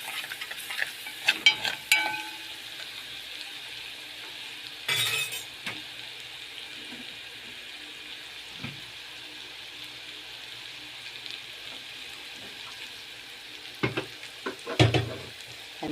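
A spoon stirs a sauce of garlic, chili harissa and butter as it sizzles in the pan, with soft frying hiss under scattered clinks and scrapes of metal against the cookware.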